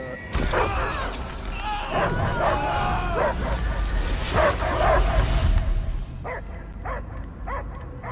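Repeated dog barks and yelps in the video game Marvel's Guardians of the Galaxy, several in a row with an uneven rhythm, mixed with rumbling game-like effects and noise, fairly loud and close.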